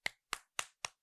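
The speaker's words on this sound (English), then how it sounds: "you're hitting that back of that bottle" A hand smacks the back of a glass Tapatio hot sauce bottle four times in quick, even succession, each a crisp, close slap with a short ringing tail.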